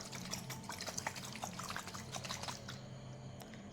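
Indigo carmine redox solution sloshes and splashes inside a bottle as it is shaken. The rapid, fairly loud liquid churning carries on for a few seconds and then eases off.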